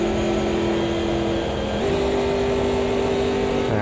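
A race car engine in the Automobilista 2 racing game drones at a steady high pitch and then drops in pitch as it downshifts midway, carrying on loud and continuous.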